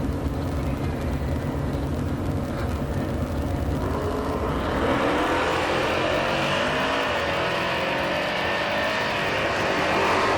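Drag race cars, including a 2015 Charger, launching and running down the strip at a sportsman nationals event; loud continuous engine roar that swells and rises in pitch midway as the cars accelerate away.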